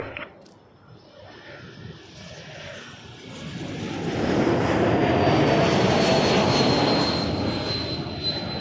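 An Air Canada jet takes off from Toronto Pearson, its engine roar building from a moderate rumble to a loud, broad, sustained blast that holds steady toward the end with a faint high whine above it.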